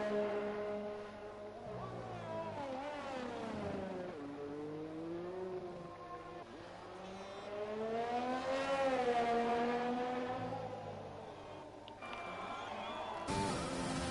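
Formula 1 race car engines in F1 2020 at the Russian Grand Prix, high-pitched revving whines rising and falling through gear changes as cars accelerate and brake, loud and continuous, with a commentator's voice over it.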